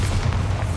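A Bombarda spell blast from Hogwarts Legacy: a single deep, loud boom with a sustained low rumble, filling the whole short moment with no voices.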